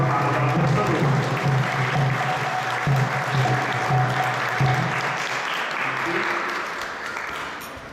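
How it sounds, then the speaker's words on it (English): Audience applause for a speaker at an ISKCON talk on Lord Jagannath and Ratha Yatra, a loud, sustained clapping from a full room that gradually fades near the end. "please join me in giving a thunderous round of applause for Mahabhagavat Prabhu."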